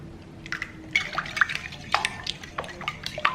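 Heavy whipping cream is poured into a bowl of eggs, giving quiet, close splashes and dripping glugs in short irregular bursts.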